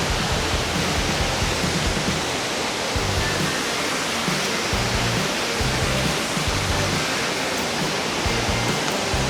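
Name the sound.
Mantayupan Waterfall in Barili, Cebu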